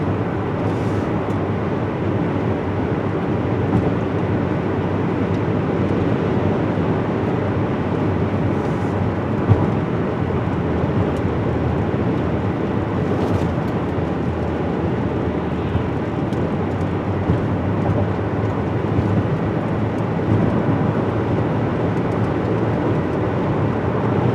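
Cabin drone of a Buick Lucerne with the 3.9 engine cruising steadily on light throttle, a continuous low rumble of engine and road noise with no breaks and no talking.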